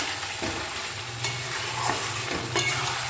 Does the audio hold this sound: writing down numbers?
no